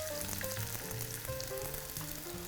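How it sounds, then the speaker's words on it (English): Steady sizzling of onions and apples frying in olive oil, close and continuous with faint crackles, no voices. "We should get a little sizzle."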